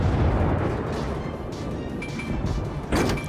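Torpedo explosions in the naval video game World of Warships: a deep, rumbling roar of blasts that swells and fades, then a sharper burst at the end.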